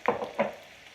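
Eggs being scrambled in a pan for a dim sum breakfast, two quick stirring scrapes with a soft sizzle underneath, close and brief.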